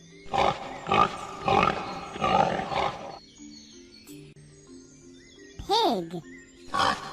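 A farm pig grunts in a short run of rough, throaty bursts, fairly loud and close, followed by soft musical tones and a brief swooping call.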